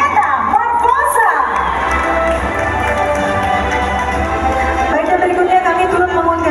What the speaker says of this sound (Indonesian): Para hadirin sekali lagi boleh kita berikan tepuk tangan yang paling meriah